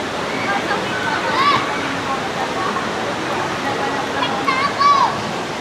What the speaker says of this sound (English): you can see the river. It all comes off the mountain and then it's diverted into that pool.